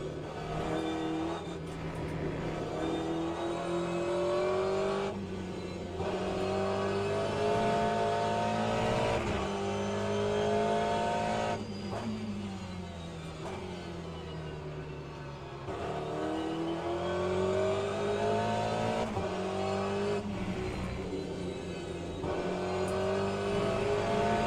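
A race car laps the Spa circuit, its engine droning loud and steady from the cockpit as it revs up and down through gear changes and corners, with occasional lifts off the throttle.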